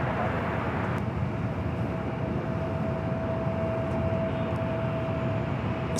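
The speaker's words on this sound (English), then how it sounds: "United Airlines Flight 199, coming from Shanghai, 787-9 Dreamliner" United Airlines Boeing 787-9 Dreamliner landing at LAX, a steady loud jet roar with broadband rushing noise and a faint whine, continuous throughout.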